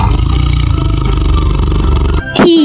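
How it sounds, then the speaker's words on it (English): A tiger roars in a children's animal vocabulary lesson, a loud rumbling growl that sustains for about two seconds, then breaks off into a brief rising cry at the end. "T is for tiger."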